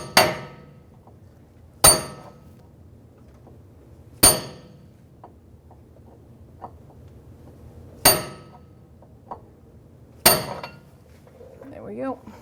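A brass punch struck with a hammer to peen over a new inner tie rod end on a 2011-2017 Honda Odyssey, five sharp metallic blows spaced a couple of seconds apart, loud and close, with faint clinks between and a brief voice at the end.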